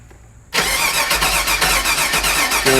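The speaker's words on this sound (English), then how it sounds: "Now we're gonna have her crank it." A 2001 Chevy Suburban with a suspected bad fuel pump cranks loud and close. After a quiet start the starter engages abruptly and keeps a steady rhythmic churning whir for about two seconds.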